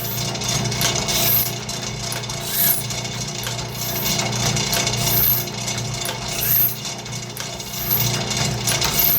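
Sawmill band blade being sharpened, a grinder pulling a burr along the top of each tooth as the band advances; a steady mechanical grinding hum with regular faint ticks and clicks as teeth pass, running continuously.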